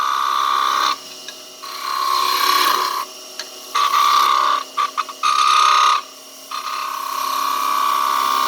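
A skew chisel scrapes a wooden snowman turning on a lathe without tailstock support, producing bursts of rasping, chattering cuts that start and stop over a steady motor whine, close and loud.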